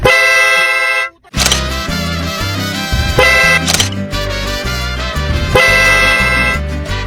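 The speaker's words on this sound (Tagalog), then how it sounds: "Ba't ganun busina ko na?" A car horn that has been moved inside the car cabin honks loudly and repeatedly in short and longer blasts, with a brief silence near the start.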